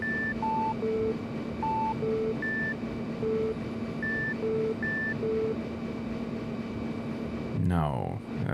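Puzzle beeps from Resident Evil 3 play as a tidy sequence of short electronic tones stepping between three pitches over a low steady hum, ending in a brief burst of noise.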